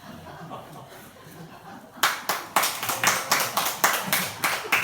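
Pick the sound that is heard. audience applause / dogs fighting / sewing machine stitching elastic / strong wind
audience applause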